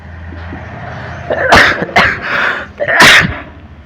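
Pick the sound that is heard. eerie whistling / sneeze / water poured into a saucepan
sneeze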